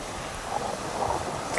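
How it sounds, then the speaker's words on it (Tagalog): Sea waves washing gently around a swimmer in calm, pool-like water, a soft rushing swell with light wind buffeting the microphone, brief and fairly quiet. "Ito yung alon, no?"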